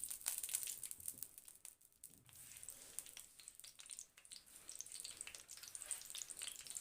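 Ghee melting and sizzling in a pan while making makhandi halwa, with a steady soft crackle and fizz close by and no voices.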